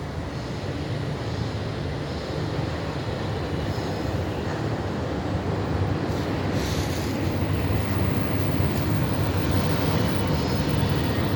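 A light rail train rumbles past steadily in Palembang, a continuous loud roar with wind buffeting the microphone throughout.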